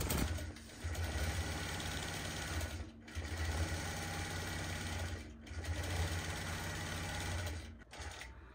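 Gammill Statler Stitcher Optimum longarm quilting machine stitching, a fast, steady mechanical whir and rapid needle chatter that runs continuously up close, briefly dipping in three short pauses.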